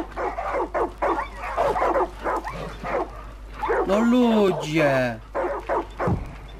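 Dogs in the video game Far Cry 5 bark and yip in quick bursts, with one whining, rising yelp near the end, heard over someone talking throughout.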